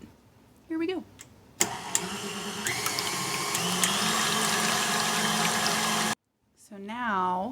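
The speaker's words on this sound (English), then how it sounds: "So now you just whisk it on high for like a minute." A stand mixer runs on high, whisking egg whites into meringue for pavlova, a steady loud motor whir that holds for several seconds. Talk comes before it and again after it stops.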